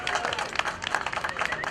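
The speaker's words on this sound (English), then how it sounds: "I want everybody to give Mitch Greenlick a nice applause" At an atheist festival in Portland, an outdoor audience claps for State Representative Mitch Greenlick, a short burst of uneven, moderately close applause with a voice partly mixed in.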